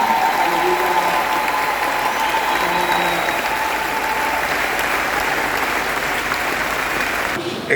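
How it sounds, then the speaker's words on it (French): A church congregation applauds steadily and loudly at the close of a synod's final session, the clapping dense and sustained throughout with a faint tone and murmur beneath before it cuts off at the end. "Applaudissons le Seigneur."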